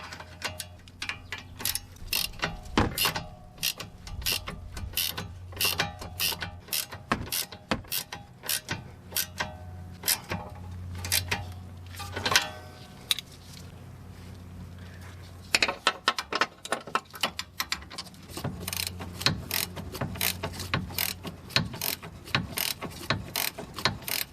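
Ratchet tightening tie rod end bolts on a 2010-2016 Buick LaCrosse during front suspension work, giving a long run of rapid, dense clicking bursts with brief pauses, close and fairly loud against faint workshop background.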